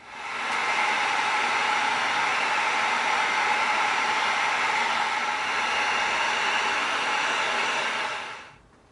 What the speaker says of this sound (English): now we're going to heat seal this to tighten all the foam up